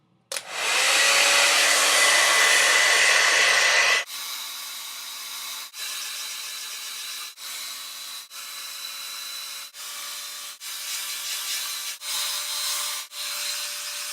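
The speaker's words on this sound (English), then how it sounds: "And that is a hairdryer." A hair dryer roars loudly and steadily for about four seconds, then switches off, leaving a faint hum broken by several soft clicks or taps.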